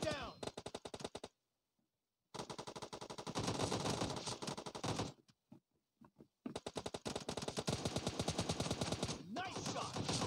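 Rapid automatic gunfire bursts in the video game PUBG Mobile Lite team deathmatch, loud and close, broken by a few short silent gaps between volleys.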